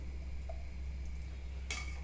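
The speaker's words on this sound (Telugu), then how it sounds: "దీంట్లో 1 టేబుల్ స్పూన్ ఘీ వేస్తున్నాను." Ghee hits a hot kadai for chicken vegetable dum biryani, setting off a sudden sizzle late in the clip over a steady low kitchen hum.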